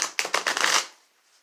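Tarot cards are given a quick riffle shuffle, a rapid flurry of crisp card snaps that lasts under a second and ends in quiet.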